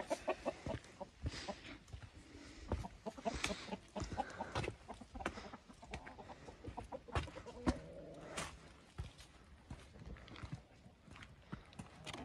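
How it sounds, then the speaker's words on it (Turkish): Hens clucking in a busy coop, many short overlapping calls mixed with scratching, rustling and occasional thumps close by. "Tavuklarımız da burada."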